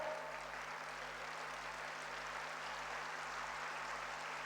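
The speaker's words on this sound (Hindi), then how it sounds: "सब तालियां बजाओ भाई।" An audience at a university convocation ceremony applauds in a large hall. The clapping comes as a dense, even wash that sounds distant and faint, with a low steady hum beneath it.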